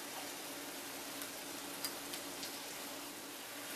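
Onion and shredded carrot fry with shirataki noodles in a pan, giving a soft, steady sizzle with a few faint ticks and pops, quiet and continuous with no talking.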